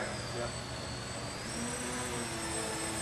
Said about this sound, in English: That's one nice flying jet.